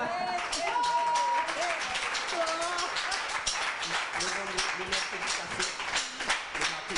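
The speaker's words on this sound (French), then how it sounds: "Ça s'applaudit, hein?" Audience applause for students at an event, steady moderate clapping throughout with a voice talking over it and some musical or tonal sounds mixed in.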